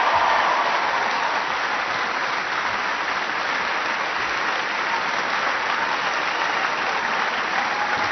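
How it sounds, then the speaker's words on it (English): A large crowd applauds Karen Mills, the small business administrator, at a health care reform rally in Maine: sustained, thick, uniform clapping at full volume for about eight seconds, with no speech. "please give her a huge round of applause"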